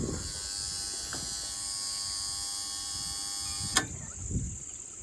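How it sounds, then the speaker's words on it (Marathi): A farm electric motor hums with a steady buzz, then is switched off with a sharp click, leaving a fainter hiss and a few soft knocks. "केली बंद मित्रांनो मोटर मी"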